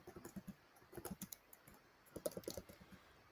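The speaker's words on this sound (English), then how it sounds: "is that you typing?" Clicky typing on a computer keyboard, fairly close and quiet, coming in uneven bursts of keystrokes with short pauses between them and no voices over it.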